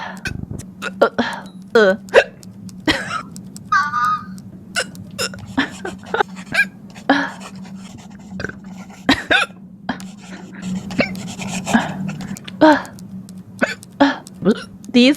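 A rapid string of sharp hiccups and burps, close and loud, repeated irregularly throughout while a person talks between them.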